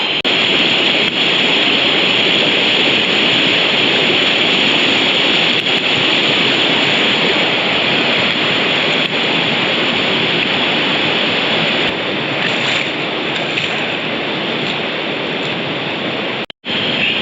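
A river rushes through The Narrows canyon in Zion, a steady loud broadband roar of flowing water, close and continuous with no voices, holding constant until a brief dropout near the end.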